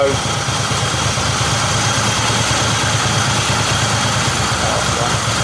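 A Yamaha XS850 motorcycle engine with newly fitted carburettors idles loudly and steadily at close range, a rough, even rumble that holds without change.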